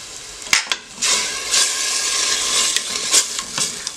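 Onions softening in a pan with salt and black pepper for soup, giving a bright continuous sizzle with a few sharp spoon knocks and scrapes, close and fairly loud, without voices.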